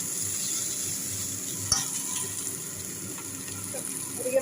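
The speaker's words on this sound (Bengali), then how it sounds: "এদিকে ভাজা হতে থাকে" Papaya pieces with salt fry in oil in a pan, giving a steady soft sizzle with a faint clink partway through and small stirring scrapes near the end, no talking.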